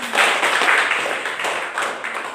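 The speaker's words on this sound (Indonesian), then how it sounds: "Oke, tepuk tangan dulu." A classroom of students applauding, a brisk, uneven patter of many hands clapping at once, close by and continuous throughout.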